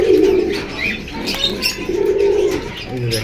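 Pigeons coo at a bird market stall where pairs are kept for sale, one sitting on eggs; low, rolling coos come up close in two long bouts with a brief pause between, and faint chirps sit over light background bustle.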